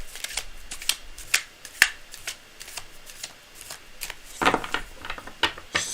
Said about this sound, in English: Cards are well shuffled, but I like to go to the very last second